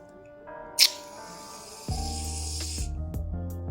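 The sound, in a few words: spraying shaving foam into slime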